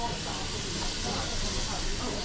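Steam locomotive 73156, in British Railways green, hisses steam steadily at Alresford station during a spring steam gala, a loud continuous rushing hiss with a voice faintly present beneath it.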